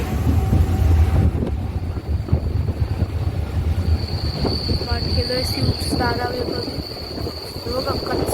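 A local train on the Uran–Nerul line rumbles and picks up speed approaching Nerul, wheels squealing faintly over steady track noise and wind buffeting the microphone.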